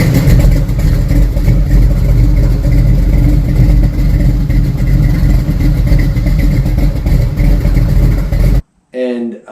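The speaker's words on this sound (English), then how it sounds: "this camshaft, great drivability on a 383 stroker, great sounding idle" A 383 stroker engine with a 107 lobe separation camshaft idles in a truck with a loud, lumpy, choppy rumble that stays steady throughout, then cuts off abruptly near the end, leaving a brief voice.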